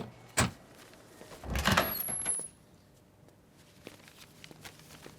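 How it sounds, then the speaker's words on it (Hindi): Indoors, a door is unlocked and opened: a sharp click, then a longer rattling slide and clatter of the door moving, followed by a few soft knocks and footsteps in a quiet room. "मैं दरवाजा अनलॉक करती हूँ"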